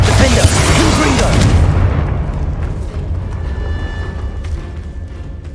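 Spell blasts from Bombarda and Confringo in the Hogwarts Legacy video game, a loud booming explosion burst at the start that rolls off into a rumbling, fading tail, with a thin tonal ring lingering afterward.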